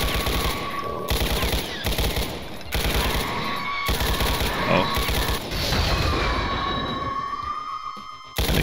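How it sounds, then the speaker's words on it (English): Rapid automatic assault rifle gunfire in The Ultimate Doom, loud and close, firing in several sustained bursts separated by short pauses, with game effects layered over it. "Assault rifle at the ready."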